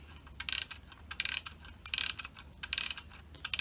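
Ratcheting clicks from winding the tension spring of an older German König Vulkan clockwork beekeeping smoker come in four close, bright bursts, each a quick run of mechanical ticks separated by short pauses.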